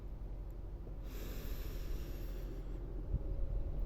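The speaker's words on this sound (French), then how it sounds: "vous respirez normalement, mais lentement par le nez" Slow breathing in through the nose, a single long, soft airy inhalation swelling in the middle and fading, close and quiet over a low background rumble.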